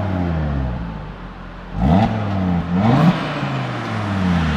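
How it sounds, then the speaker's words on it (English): A newly collected team car's engine being revved in the cold, a steady idle rising in two sharp blips of throttle before settling back, loud and close with no speech. "I just love that engine. It's just such a lovely note to it."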